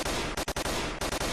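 A CZ805 Bren rifle fired on full automatic in a VR shooting game, a loud, dense, continuous rattle of rapid shots with brief gaps, close and harsh.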